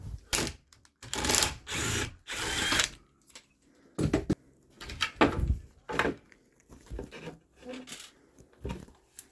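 A power drill drives screws into interior trim in a 2019 Tiffin Allegro Red motorhome, sounding as several close, loud whirring bursts of one to two seconds with brief quiet pauses between them.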